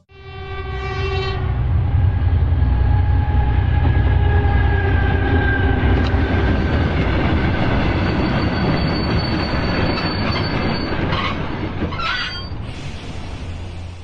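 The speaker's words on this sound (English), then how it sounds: "A freight train was traveling at 91 kilometers per hour when it suddenly derailed" Freight train travelling around 91 km/h in a derailment: a blaring horn opens, then a heavy, continuous roar of rolling cars builds and holds close and loud, with metallic screeching toward the end.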